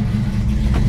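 A restored 1971 Ford Mustang Mach One engine rumbles loudly and close by, with a deep, continuous low throb.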